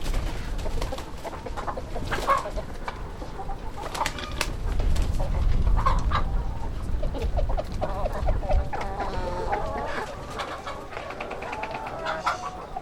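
Roosters in a mixed flock with hens, scattered clucks and calls over a low rumbling background, with bursts of fluttering wing flaps in the middle during courtship displays.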